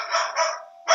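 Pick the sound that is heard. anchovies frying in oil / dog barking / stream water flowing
dog barking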